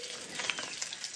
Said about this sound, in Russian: Жарю ее на сливочном масле с маслом авокадо вместе.